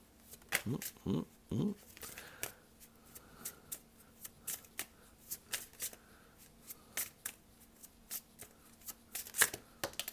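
An oracle card deck is shuffled, with a few riffling swishes at the start followed by a string of soft, separate card slaps and flicks, close and quiet.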